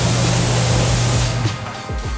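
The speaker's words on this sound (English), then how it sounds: "I'm gonna spray it from the other side just for fun." Water sprayed onto a car to simulate rain, a steady broadband hiss for over a second that cuts off abruptly, leaving faint dripping and light handling sounds.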